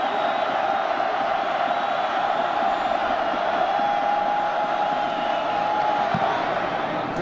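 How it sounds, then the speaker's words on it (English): Football stadium crowd at a 2010 Oregon versus Arizona State game roaring and jeering at a punter, with a loud, steady wall of crowd noise and a commentator talking over it. "And he's hearing it from the crowd as well."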